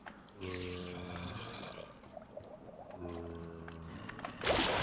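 Water in the video game Minecraft bubbles and gurgles in two sustained surges, with tonal, whale-like warbling layered over a rushing wash and a louder splash at the end.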